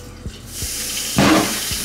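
A bowl of hot water splashes and spills indoors, giving a short wet burst with faint dripping, close and fairly loud, with no talk over it.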